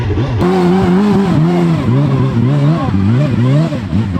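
A heavy Suzuki Hayabusa sport motorcycle with a bald tyre clawing up a steep off-road slope, its engine loud and close, revving in repeated rising and falling surges without pause.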